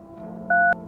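Two-tone keypad beep from a phone being dialed in the video game No, I'm Not A Human: a single short, loud tone over a faint low hum, alone without voices.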